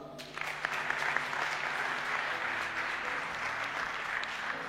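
Church congregation applauding Jesus during a prayer service, steady dense clapping from many hands filling the room, sustained and fairly loud throughout.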